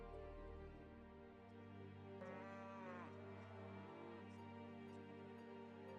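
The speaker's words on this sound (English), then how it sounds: "I don't know if you can hear the cows in the background" Distant cattle lowing faintly, one drawn-out moo rising over a steady low hum of background noise.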